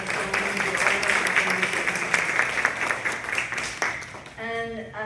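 An audience applauds at a Breast Reconstruction Awareness Day event, a dense wash of clapping that holds steady for several seconds and then tapers off as a voice begins to speak.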